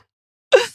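A single sudden sneeze from a person nearby, a sharp loud burst that quickly trails off after a moment of silence.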